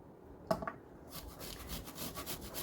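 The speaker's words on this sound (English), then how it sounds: "And then we are going to just grate on our microplane grater" Ginger-like root rubbed across a microplane grater while preparing tandoori-style chicken, a soft, rapid scraping rhythm of repeated strokes, close and fairly quiet after a small knock.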